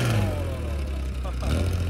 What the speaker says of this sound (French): On entend vraiment toute la mécanique travailler.